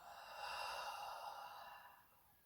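A person breathes slowly during a relaxation exercise in a drama session, giving one soft, drawn-out breath that swells and fades over a couple of seconds, faint and close.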